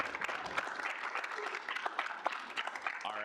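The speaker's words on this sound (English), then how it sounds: "have everyone applaud for him" Steady applause from a student senate gathering, a room of people clapping together at moderate volume for a few seconds, fairly close and continuous with a few louder claps standing out.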